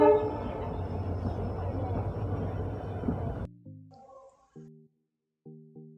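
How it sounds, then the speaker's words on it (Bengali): A passenger train pulls out of a station in India with a loud, continuous rumble of wheels and cars for several seconds. It then drops away to a few short, tonal horn-like blasts separated by quiet gaps. "4টে বাজতেই ট্রেন ছেড়ে দিল।"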